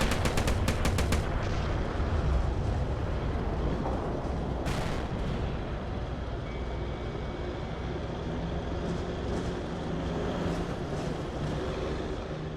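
Distant infantry gunfire in a war game set in the 1934 Saudi-Yemeni War, with a quick burst of shots at the start, scattered later cracks, and a dense, continuous battle rumble underneath.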